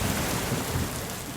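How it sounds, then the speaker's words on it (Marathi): Heavy rain pours steadily with a low rumble of thunder underneath, a dense, close wash of noise throughout the short stretch with no voices. "पाऊस पडतोय."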